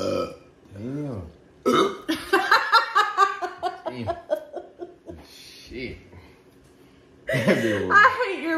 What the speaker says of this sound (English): I hate your burp so bad